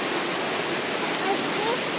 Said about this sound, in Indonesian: Sekarang hari hujan ya guys